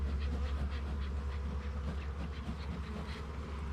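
Honeybees buzzing at an open hive during a varroa mite check, with a smoker nearby: a dense, continuous swarm drone, close and steady throughout, with no voices.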